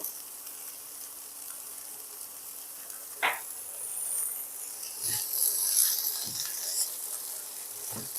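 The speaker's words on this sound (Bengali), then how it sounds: "এটা আরও একবার নাড়াচাড়া করে নেব ফুলকপিটাও ভাজা হয়ে আসছে" Cauliflower and potato frying in a pan, a steady soft sizzle throughout with a few brief stirring scrapes and knocks, close and moderately loud with no talk.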